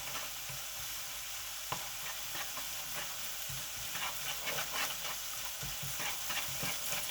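Ground cumin frying in hot ghee with cooked onions, giving a steady soft sizzle with occasional scraping stirs of a spoon against the pan throughout.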